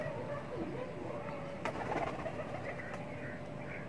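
A pigeon coos softly at a pigeon loft in Pakistan, low murmuring calls amid light background noise and a faint voice.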